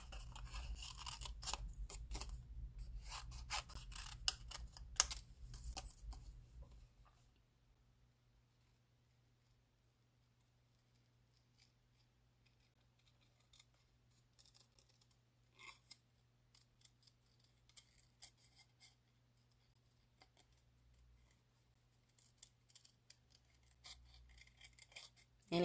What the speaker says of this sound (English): you're gonna fussy cut this little bunny out